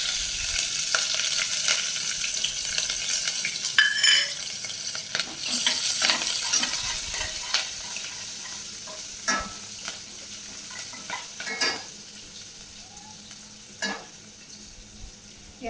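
Cumin, asafoetida, curry leaves and finely chopped green chillies sizzle in hot oil with mustard seeds for a cauliflower curry. A steady crackling fry runs throughout, broken by scattered sharp spatters and occasional stirring clinks, with no voices.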